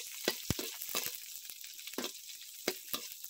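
Onions sautéing in hot oil for a simple provincial mung bean dish, sizzling steadily with sharp spattering pops and a few louder bursts, close and with no talking.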